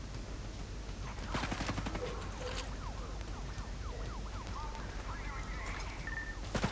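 Rapid bursts of gunfire from a Ghost Recon Breakpoint firefight, a quick staccato of shots in the middle distance amid game ambience, with brief tonal effects near the end.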